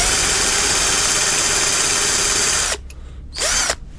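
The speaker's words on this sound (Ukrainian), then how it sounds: "Беремо шуруповерт, щось сюди чіпляємо. В даному випадку це такий металевий шестигранний стержень." A cordless screwdriver spins a motorcycle speedometer from an IZh-56 Planeta through a metal hex rod, giving a loud, steady high-pitched whine that stops, then revs again in one short burst.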